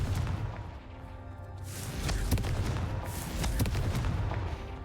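Confringo fire spell from Hogwarts Legacy on PS5 bursts in several booming, gunfire-like blasts over a constant rumbling game background, with the loudest hits landing close together midway through.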